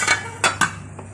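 Sweet vermicelli zarda being mixed in a pot, giving a few sharp spoon-against-metal clinks and scrapes spaced across a moment, close and fairly clear with no voices.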